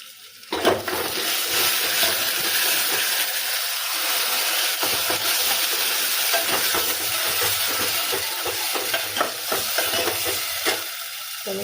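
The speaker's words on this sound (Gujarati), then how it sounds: "તો આપણે એમાં દહીં નાખી દઈએ." Curd poured into a sizzling tempering for Gujarati dahi tikhari, giving a loud, continuous frying hiss with scraping stirs and bubbling throughout, close up and with no talking.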